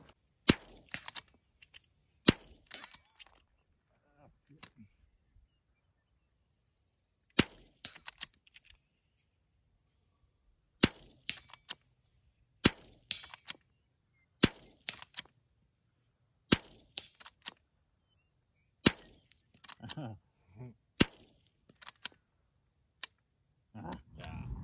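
Sharp reports from a Tikka T1X .22LR bolt-action rifle, about a dozen spaced shots over the span, each a brief crack with quiet gaps and faint handling noise between.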